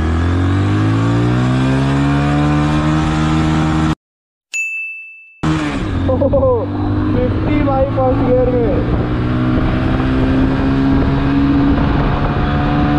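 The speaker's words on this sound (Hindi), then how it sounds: "तो गाइज अभी मैं चला रहा हूँ हीरो होंडा की ग्लैमर 125 2009 मॉडल है ये" A 2009 Hero Honda Glamour 125 motorcycle pulling away in first gear, its engine note climbing steadily and loud up close, then a brief gap and a chime before it carries on revving under a rider's speech.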